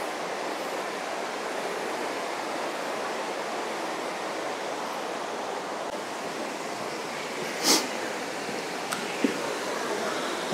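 Continuous broadband rush of the waterfall at the Birks of Aberfeldy in autumn, a steady even roar with a couple of faint short clicks near the end.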